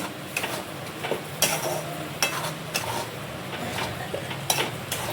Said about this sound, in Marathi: तर आता आपल्याला इथे वाटण जे आहे तेल फुटेपर्यंत मिक्स करून घ्यायचं आहे.